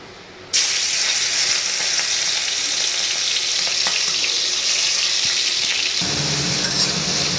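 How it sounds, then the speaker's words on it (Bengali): Prawns dropped into hot oil burst into a loud, sudden sizzle that holds steady and dense for several seconds, close up, with a slight shift in the hiss near the end. "চিংড়ি মাছগুলোকে হালকা করে একটু ভেজে নেব, বেশি কড়া করে ভাজবো না।"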